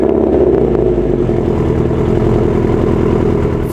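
A Subaru WRX making about 424 wheel horsepower, running a replacement aftermarket exhaust, idling close by; a loud, steady, throaty rumble with a lumpy rhythmic pulse and no voices.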